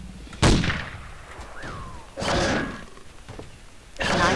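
Gunshots in Jurassic Park: Trespasser, three heavy, booming single shots spaced about two seconds apart, each with a short echoing tail, loud and close with no talking.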